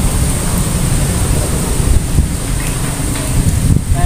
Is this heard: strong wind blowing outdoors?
yes